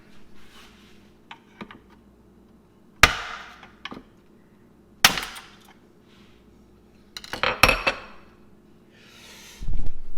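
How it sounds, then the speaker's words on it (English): Scattered sharp metallic strikes, a few loud hammer blows on a screwdriver among lighter taps and clinks while removing an under-sink garbage disposal, irregularly spaced in a quiet room. "I'm going to use a screwdriver and a hammer."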